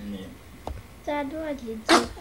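A sharp sneeze bursts out at the end, preceded by speech from a family member at home.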